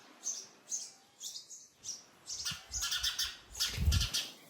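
Sparrows chirp in a village with short, bright calls repeating every half second or so, fairly near and soft, alongside a few low knocks and rustles.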